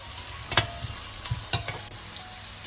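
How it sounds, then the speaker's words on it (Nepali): Carrots for chilli chicken fry in a pan with a soft, steady sizzle, broken by a few sharp scraping stirs of a utensil, close up and without voices. "अब यसमा मैले गाजर राख्दैछु। यसलाई पनि 30-40 सेकेन्ड फ्राई गर्ने।"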